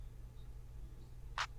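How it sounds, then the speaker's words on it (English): East End clap drum sample played once in Mixcraft, a single short sharp hit standing alone over a steady low hum. "don't need this clap right here,"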